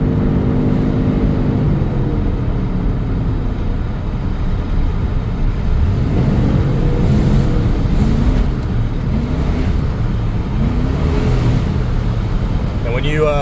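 A 1997 Chevrolet K1500 pickup with a 5.7L Vortec V8 and a failing transmission, driving at about 35 mph with a loud droning engine and cab rumble that surges unevenly, while someone talks over it inside.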